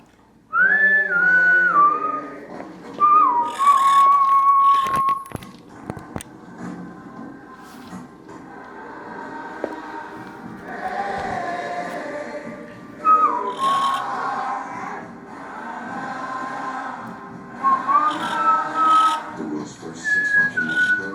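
A pet talking bird whistles in bright, rising and falling tones, in a few loud phrases with pauses, against a low room hum, and a TV-like voice murmurs in the background.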